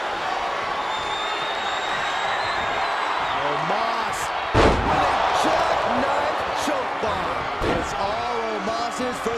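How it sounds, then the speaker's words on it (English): Chokeslam body slam in WWE 2K23 by Omos, a sharp heavy thud against the mat, followed shortly by a second impact, over steady arena crowd noise and commentary. "Choke slam."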